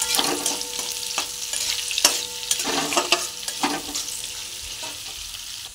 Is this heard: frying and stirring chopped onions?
yes